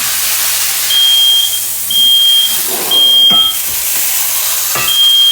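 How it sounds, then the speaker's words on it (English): A kitchen smoke alarm beeps repeatedly at a steady rhythm, a high, sharp tone over a constant hiss of background noise. "I had to take that smoke alarm all the way outside."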